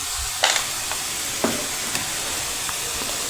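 Onion with crushed garlic red chili sautéing in a pan, a constant close sizzle broken by several sharp stirring clinks and scrapes spaced across the stretch, with no talk.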